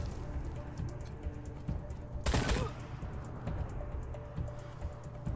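Short burst of gunfire in the post-apocalyptic tactical game Wasteland 3, a single loud broadband blast cluster rising out of low ambient game music and background rumble, then fading back to the steady bed.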